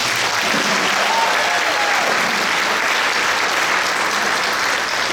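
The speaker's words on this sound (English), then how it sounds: "A round of applause for Mr." An audience at a Ukraine-support band concert in a VFW post hall applauds Mr. Miller with sustained, even clapping from many hands that holds strong and unbroken.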